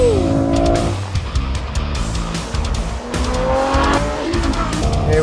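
A Ferrari F12 Berlinetta drifting in oversteer on the Fiorano test track, its tyres squealing loudly over a hard, continuous engine roar, with sharp squeals recurring throughout.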